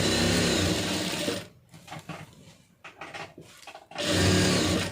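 A sewing machine stitches the lining of a blouse in two loud, close bursts of rapid, even whirring. There is a quieter pause between them filled with faint handling of the fabric.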